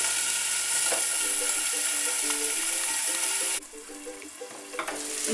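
Peperonata sizzles and fries in a covered pan over moderate gas, a steady dense crackle with a faint repeating mechanical ticking beneath; the sizzle drops noticeably quieter partway through.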